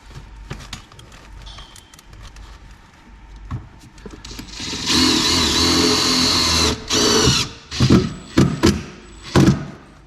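A power drill drives screws during a stereo install in a Toyota Supra JZA80, its motor whirring in a long sustained run followed by several shorter bursts, close and loud, with light clicks and handling noise before it.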